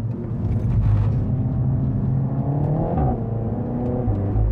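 A 2018 Renault Mégane RS in second gear takes a tight corner, its engine a steady close rumble and whir with a slight rise in revs partway through, continuous and without talk.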